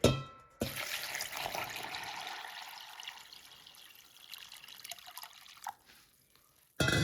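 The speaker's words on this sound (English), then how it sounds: "all I will do is add water on top of it" Water poured over washed rajma beans in a slow cooker, a steady close trickle and splash that starts loud, gradually fades to a thin dribble, then ends abruptly.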